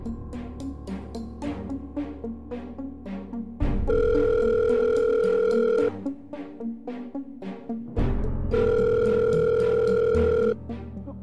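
Phone ringing tone heard while a call goes unanswered: two long, loud steady electronic rings separated by a pause, with music playing throughout.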